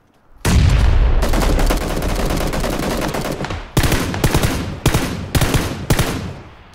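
Rifle fire in PUBG, a loud near burst of sustained automatic shots followed by several separate short volleys, with no talk over it.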